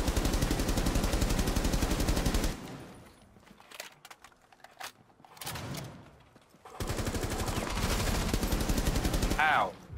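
Automatic gunfire in the video game Rainbow Six Siege: two long bursts of rapid shots separated by a quieter stretch of scattered sounds, with a voice talking during the firefight.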